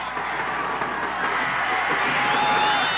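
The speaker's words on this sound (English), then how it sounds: "As we look across the stadium and see the Dickson County crowd" Dickson County stadium crowd at a 1988 state championship high school football game, a steady, moderately loud wash of cheering and whooping from a distance with a faint voice over it.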